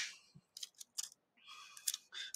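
Sticky tape folded over at its end, a quick series of short crinkly, crackling tape noises in separate bursts, close and fairly quiet, with no talking.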